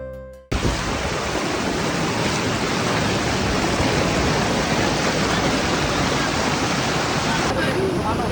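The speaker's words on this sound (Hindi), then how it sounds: "एक शानदार आबशार के पास हमने रुक कर रेस्ट किया" A waterfall in Neelum Valley roars as a steady, dense broadband rush, loud and close, continuous for most of the stretch after a brief quieter opening.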